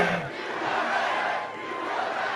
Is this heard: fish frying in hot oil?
no